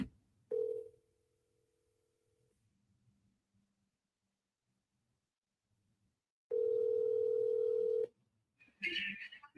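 Telephone line tones sound during an outgoing call: a short tone, then a steady tone lasting about two seconds, a long quiet gap, and a louder tone lasting over a second, followed by a brief burst of noise.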